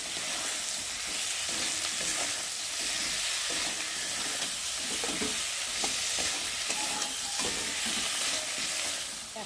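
Potatoes sauté with turmeric, salt, mustard paste and ginger paste, giving a continuous soft sizzle broken by repeated scraping stirs of a spoon against the pan.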